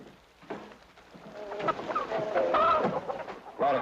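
Chicken clucking in a 1962 World War II television drama, a run of short irregular clucks and squawks of moderate loudness, close by, with no talking over them.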